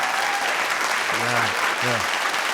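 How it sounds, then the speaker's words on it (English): An audience claps steadily in a broadband wash of applause, with a voice briefly speaking over it midway. "give a round of applause for people that fight in the military and for us"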